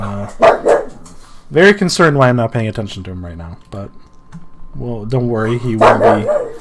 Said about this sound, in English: That is my dog. That would be Sebastian.